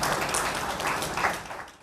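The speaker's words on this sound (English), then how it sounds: "Can you all give them a round of applause," A crowd at a school event gives a round of applause for primary school teachers, with a diffuse wash of clapping that slowly fades toward the end.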